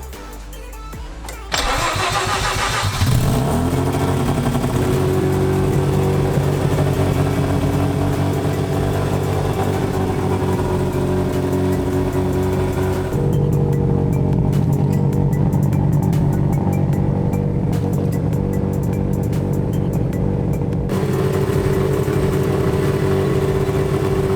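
A Mazda FC3S RX-7 cranks and fires up on its first start with an exhaust fitted, a brief starter whir and then a loud, steady engine drone that idles on, dipping and rising slightly in pitch.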